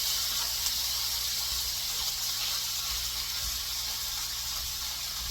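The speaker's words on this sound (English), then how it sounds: "we are going to start out with browning our hamburger meat." Hamburger meat browns in a hot pan, giving a steady, continuous sizzling hiss at even loudness with a faint low hum beneath and no voices.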